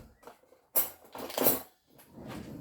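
A fork presses vanilla and rose water biscuit dough down onto a dish, making a few soft, close clinks and taps separated by short pauses.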